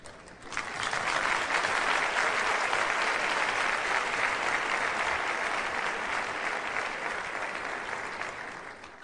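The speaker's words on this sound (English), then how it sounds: "Let's applaud them." Sustained applause from a conference audience at an International Women's Day event, a dense steady wash of clapping that swells quickly and holds loud for the whole stretch without talk.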